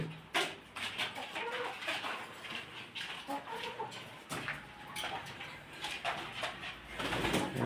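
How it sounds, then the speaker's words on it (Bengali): Chickens cluck faintly and intermittently amid rustling, shuffling background noise, with no one speaking. "আর কিছু মুরগি আছে।"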